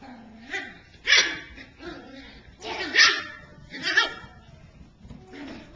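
Toy poodle puppies at play give off a run of short, high yips and barks in scattered bursts, with a few louder peaks standing out over a soft, busy background.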